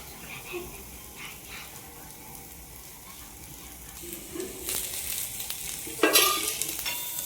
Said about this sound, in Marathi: कांदा मस्त भाजत आला।